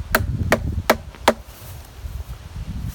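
Knife chopping into a hard, well-preserved dead cottonwood limb outdoors: four sharp, crisp strikes about a third to half a second apart, then quieter background with faint rustling.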